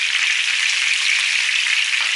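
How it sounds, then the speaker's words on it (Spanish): Chicken pieces frying in oil in a pan, a loud, steady, close hiss of sizzling that holds evenly throughout with no voices. "vamos a poner en un sartén un poco de aceite y vamos a freír un poco todo el pollo hasta que esté dorado"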